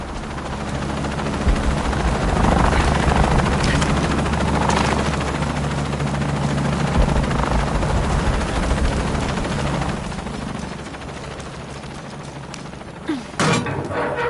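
A helicopter in the Shadow of the Tomb Raider video game: a steady, loud rotor thump and engine drone holding throughout, with faint gunfire-like cracks and a sharp mechanical clatter near the end.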